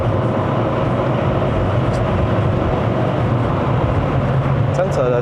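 A 2020 Toyota Harrier XU80 hybrid in Sport Mode on a mountain road, heard from inside the cabin as a steady low drone and road rumble, with people talking over it.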